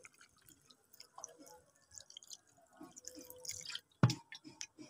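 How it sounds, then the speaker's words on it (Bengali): Water is poured gently into a pot of cooking taro stolons with shrimp, giving faint scattered drips and trickles, then a short splash near the end, close and quiet with no talking. "হালকা করে পানি দিয়ে দিচ্ছি।"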